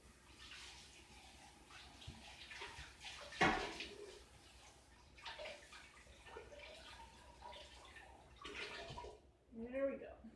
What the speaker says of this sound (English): I'm going to rinse out my lye container right away